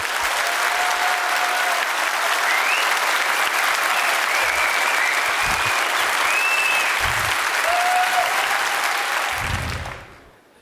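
Loud, sustained applause from a large crowd at an awards ceremony, steady for about ten seconds before tapering off at the end, with a few whistles over the clapping.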